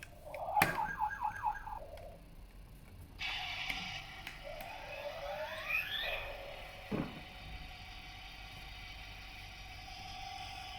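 A toy fire truck sounds its electronic siren, a thin warbling, rising-and-falling tone with short beeps at first, fairly faint against a quiet room.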